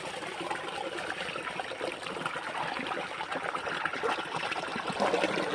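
Tap water runs steadily while prawns are washed for a village-style biryani, a continuous close trickle and splash with small irregular spatters from hands moving in the stream.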